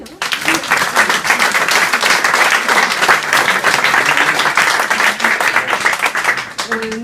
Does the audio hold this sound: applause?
yes